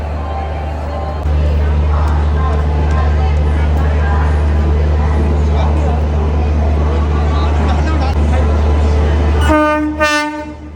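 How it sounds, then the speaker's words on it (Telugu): A train rumbles loudly and steadily nearby as it arrives at a station, and near the end a horn blasts with strong tonal bands as the rumble fades. "ట్రైన్ అయితే వచ్చేసింది ఇక్కడ."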